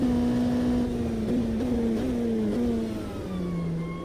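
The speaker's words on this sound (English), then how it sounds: "Cosworth engine" A Cosworth race car engine in the Automobilista 2 racing game drones at a steady high pitch, its note stepping up and down through gear changes as it revs, loud and continuous with no talk.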